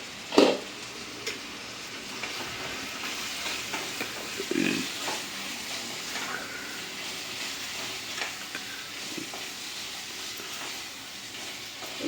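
Chicken chukka sizzles and fries in a pan while a utensil stirs it, giving steady hissing with several distinct scraping, clattering stirs.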